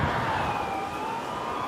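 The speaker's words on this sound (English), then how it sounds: "I'm seeing more and more sirens going past me" Emergency vehicle sirens wail steadily through a continuous roar of street noise during an Iranian missile attack on Israel, with a sustained rising-and-falling tone and no pauses.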